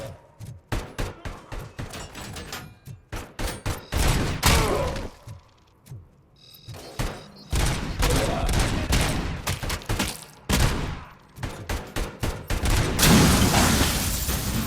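Gunfire in the video game Robocop: Rogue City: repeated sharp shots and bursts in uneven clusters, some loud and close, with short gaps and heavier volleys near the end.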